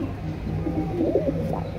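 Pigeons in a home loft give low, soft coos under a steady background murmur, a few calls rising briefly around the middle of the stretch.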